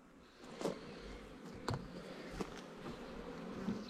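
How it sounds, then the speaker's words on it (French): A honeybee swarm hums steadily nearby, with individual bees buzzing close past in several louder swells over the continuous drone. "Donc je vous montre un petit peu l'essaim."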